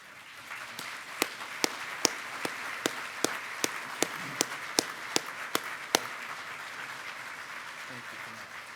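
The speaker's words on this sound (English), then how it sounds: "could I ask you to stand so we can applaud you and thank you for all that you do for us" Audience applause at a sheriffs' association general session, a steady wash of many hands clapping with sharper individual claps standing out, continuing for several seconds before easing off.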